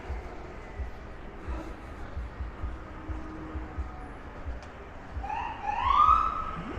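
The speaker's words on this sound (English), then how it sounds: "Got some ambulance stuff going on right now." On a Brooklyn city street at night near New Utrecht Avenue, a siren rises in wailing sweeps toward the end over a low rumble of traffic.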